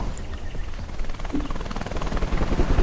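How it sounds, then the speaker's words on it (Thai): An aircraft arriving to pick up players in the survival game LifeAfter, a steady rotor-like drone with a rising whirring roar that grows slightly louder toward the end. "แล้วก็มีเครื่องบินมารับเรา"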